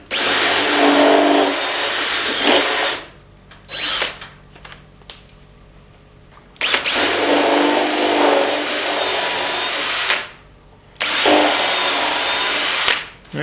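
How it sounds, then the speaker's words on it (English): A power drill driving a Rockler Avenger countersink bit into screw holes in a simple outdoor wooden step, in three loud, steady bursts of a few seconds each, separated by short pauses. "I'm going to use my little Avenger countersink that I got from Rockler. I'm going to just countersink them a little bit"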